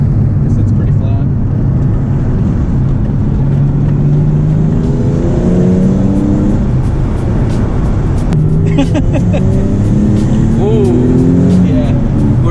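A Nissan 370Z Nismo accelerates, its engine drone rising steadily in pitch as it pulls through the gears. The sound is loud and continuous, heard from inside the car.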